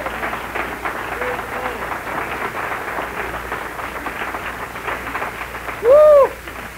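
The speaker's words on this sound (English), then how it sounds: "Well, go ahead and clap." A church congregation breaks into sustained applause, a dense and steady wash of clapping mixed with murmuring voices, with a brief high whoop or cheer rising near the end.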